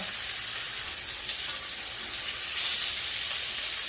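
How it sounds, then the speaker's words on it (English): Sliced gyro meat fries in a hot pan on medium heat, a loud, steady hiss and sizzle that swells slightly toward the end, with no voices. "I'm going to slide it in there real easy. I'll probably fry me about 4 of them right now."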